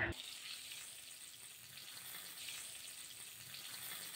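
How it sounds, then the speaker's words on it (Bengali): Potatoes frying in oil in a pan for a Bengali potol curry, a steady close hiss and sizzle running through the whole stretch with no voice. "এই তেলের মধ্যে আলুগুলো ভাজা করে নেব।"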